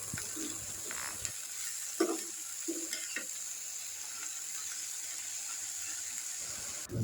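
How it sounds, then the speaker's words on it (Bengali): Vegetable bhaji frying lightly in a pan, a soft continuous sizzle with occasional quiet scrapes of stirring, faint and close, with no talk. "দেখুন বন্ধুরা কিভাবে আমি ভাজিটাকে হালকা করে ভেজে নামিয়ে রাখি"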